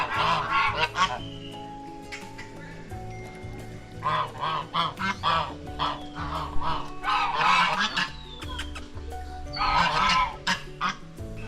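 Geese in small animal pens honk loudly and close in repeated bursts, with other farm fowl mixed in and short quiet gaps between the calls.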